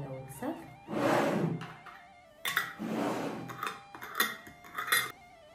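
Glass jam jars, filled with homemade quince jam, having their lids screwed on tightly, giving several close thunks and clinks of lids and glass in bursts, with a person talking at times.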